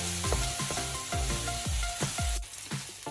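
Tomatoes with mixed herbs and red chili powder sizzle loudly in a pan, with steady frying and repeated rhythmic scrapes of stirring throughout. Nobody speaks.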